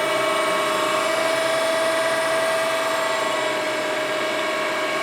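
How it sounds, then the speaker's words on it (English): The main motor of a CNC press brake runs with a steady, loud mechanical hum and a constant whining tone, close by and unchanging throughout. "This is the main motor."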